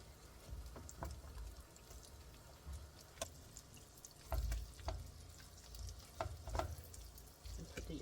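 Sweet potatoes frying in butter in a pan give off a quiet, steady sizzle broken by scattered sharp pops and crackles, with a few louder bursts as the pieces are turned.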